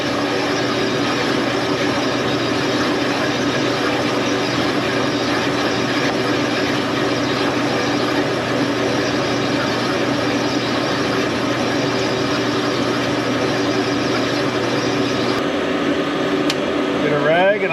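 A hone grinds steadily inside an engine cylinder bore, a loud continuous abrasive whir that runs unbroken and stops near the end, with someone talking over it.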